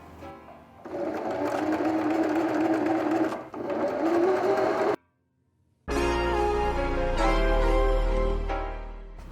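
A Singer sewing machine runs in two long steady bursts while hemming fabric for a bath curtain, stopping briefly between them, then a different mechanical whir follows after a short silence.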